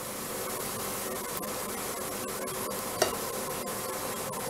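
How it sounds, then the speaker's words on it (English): Garlic and stock stirred on a Ninja Foodi 7 in 1 air fryer griddle combo, a steady soft sizzling hiss with faint scraping strokes and one brief knock, close and quiet, no talk. "Got a nice little stir there."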